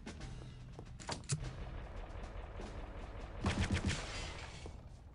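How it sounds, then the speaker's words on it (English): Gunfire shooting posters in the video game Return to Castle Wolfenstein, with a few sharp shots early on and a louder rapid burst around the middle, over steady game background noise. "Shoot the posters as always."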